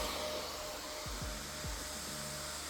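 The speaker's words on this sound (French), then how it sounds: "Au montage, on met un extrait du bruit du PC qui ventile à fond" A PC's cooling fans run at full speed, a loud, steady broadband whoosh with a faint tonal hum and a few low thumps underneath.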